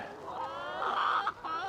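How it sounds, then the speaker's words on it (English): Pasture-raised egg-laying chickens cluck steadily outdoors on a mild morning, a continuous close chorus of overlapping hen calls that swells midway and dips briefly near the end. "the chickens seem to be happy to be outside"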